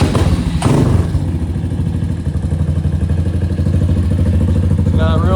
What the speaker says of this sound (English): let me start it up for you in case you've never heard the bike.